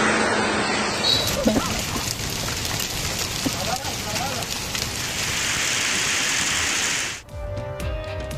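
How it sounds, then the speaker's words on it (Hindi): Heavy monsoon downpour with thunder and lightning in Tharparkar, heard as a dense, steady roar of rain close by for about seven seconds before it abruptly cuts out. "थरपारकर में गरज चमक के साथ मूसलाधार बारिश।"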